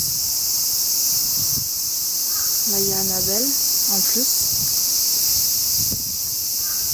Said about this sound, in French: il y a beaucoup de grillons